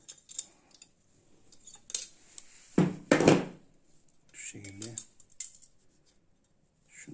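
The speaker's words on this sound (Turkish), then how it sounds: "elektrik oradan arada ark oluşturmasın diye şurada fazlalığı da kesip vereyim." Excess heating wire on a stone stove heater trimmed during repair: a few sharp metallic snips of cutters near the middle, with scattered handling clicks and clatter around them.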